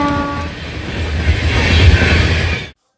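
A train rolls along a railway track near the road to a village, a loud close rumble and rushing noise with a brief horn tone at the start, cutting off abruptly.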